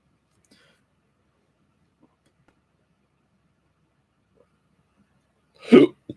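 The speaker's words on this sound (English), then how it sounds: "I do apologize for the hiccups" After near silence, a single loud hiccup bursts out close to the microphone near the end, followed by a smaller catch of breath.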